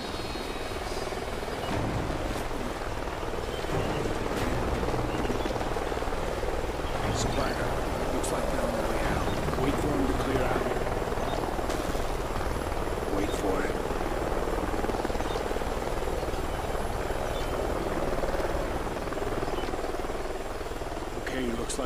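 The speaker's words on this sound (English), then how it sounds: "Sounds like a chopper's up ahead of us." Helicopter in the Call of Duty Ghosts game flying ahead over canyons, a steady thudding rotor drone lasting throughout, moderately loud and continuous with background game ambience.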